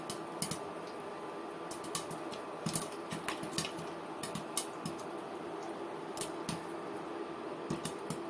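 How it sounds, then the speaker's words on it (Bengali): Popcorn kernels crack and pop in a pan on the stove while being stirred by hand, giving faint, irregular sharp clicks over a soft steady background. "পপকর্নটা সুন্দরভাবে ফোটা শুরু হয়ে গিয়েছে এখন আমি একটু করে হাত দিয়ে নেড়ে নিচ্ছি"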